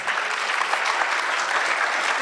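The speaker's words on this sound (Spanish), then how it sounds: "le agradecemos con un fuerte aplauso" Audience at a university lecture breaks into loud, dense applause that holds steady throughout.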